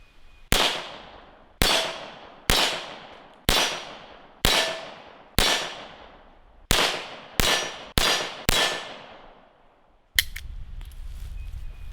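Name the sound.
warm-up gunshots fired from a Nagant revolver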